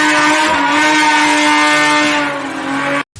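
A 1,000 horsepower Honda Odyssey drag van engine, loud and close, holding a steady high-pitched roar for about three seconds before the sound drops away abruptly.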